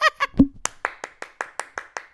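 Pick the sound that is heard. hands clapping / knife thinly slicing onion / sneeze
hands clapping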